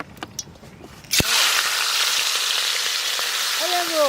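Shrimp hit hot mustard oil about a second in, setting off a loud, steady sizzle that continues to the end, with a few faint chirps near the close.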